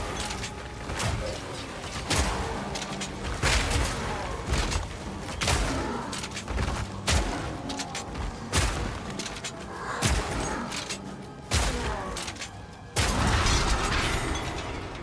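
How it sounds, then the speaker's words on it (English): Grenades going off in rapid bursts during a Path of Exile 2 fight against a swarm of monsters, with dense booms, crackling blasts and mechanical clatter piling on top of each other throughout. "Nades everywhere"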